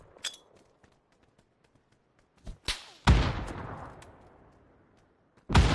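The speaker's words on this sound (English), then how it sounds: "That guy's shooting you." Several gunshots in a video game firefight: a few light cracks, then a loud close boom with a long decaying tail, and another heavy shot at the end, with no talk over them.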